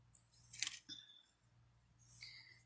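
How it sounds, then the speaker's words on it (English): Jewelry wire being snipped with cutters, roughly a five-inch length, giving a quiet sharp click near the middle against a faint low hum and light handling noise. "I'm going to cut about 5 inches of wire"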